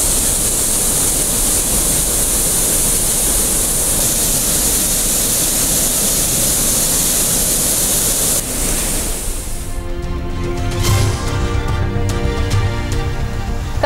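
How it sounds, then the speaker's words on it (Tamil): Courtallam main falls in flood roar with a loud, steady rush of water for about nine seconds before the sound gives way to music. "குற்றாலம் பேரருவியில் குறையாத வெள்ளம்."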